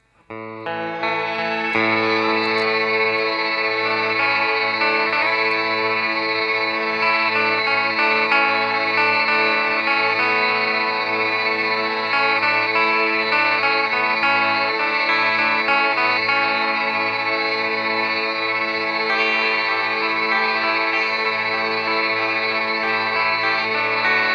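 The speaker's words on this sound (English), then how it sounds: "This is the hold function, and I'm going to hit that, and you'll hear both of these sounds freeze" A dense, sustained wash of frozen tones from an OBNE DarkLight ambient effects pedal's hold function, harmonically rich and shimmering, holding steady and loud throughout with no talking.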